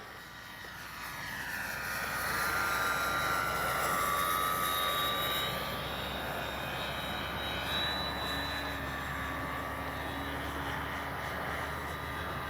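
A Dynam BF-109 radio-controlled warbird model plane makes a low pass, its motor whine rising as it approaches, then holding steady as a thin buzzing drone at moderate distance, with no one speaking.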